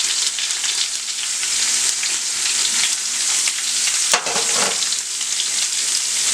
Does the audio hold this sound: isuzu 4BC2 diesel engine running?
no